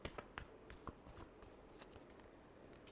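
Tarot cards are shuffled in quick, faint riffling bursts and soft slaps, an irregular rhythm of light papery clicks close by with no talk.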